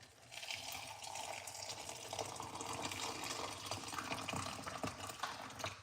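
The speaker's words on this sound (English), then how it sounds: "we're going to pour some hot water." Hot water pouring over garlic, cinnamon, ginger and cloves, a continuous splashing, gurgling stream lasting several seconds, close and steady.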